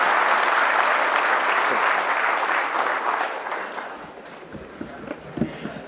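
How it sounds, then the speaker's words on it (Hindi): Audience clapping at an Aadhaar operator training workshop, a dense burst of applause that fills the room and then thins into scattered, fading claps over six seconds. "एक बार तालियों के साथ उसी एनर्जी को वापस लेके आएंगे जो सुबह थी हमारे लिए।"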